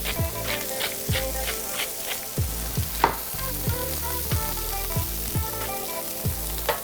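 Pork mixture with peppers frying in a pan and being stirred, a steady close sizzle broken by repeated scraping strokes and a few sharp knocks of the utensil against the pan, with no voices.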